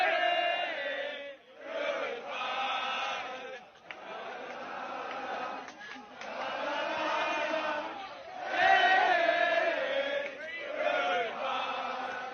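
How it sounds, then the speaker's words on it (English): Large crowd of college students at a campus protest sings together in loud, rough unison, waves of voices swelling and dipping with short pauses between phrases, heard from somewhat far off. "crowd of college students that are singing and waving goodbye to the protesters as they are being removed"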